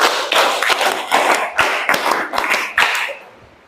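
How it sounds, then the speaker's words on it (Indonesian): A classroom of students claps hands together in a quick rhythmic pattern, a series of sharp, crowded claps in short groups, fairly close and loud, fading at the end. "Oke, 3 kali tepuk 5."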